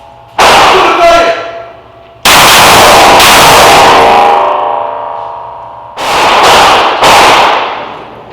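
Pistol shots at a shooting range during drills ring out loud and close, in quick clusters of several sharp reports, each followed by metallic ringing and echo.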